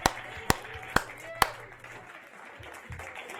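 A team applauds after the Perseverance rover lands on Mars, starting with four sharp, separate claps spaced about half a second apart and trailing off into soft room murmur and faint voices.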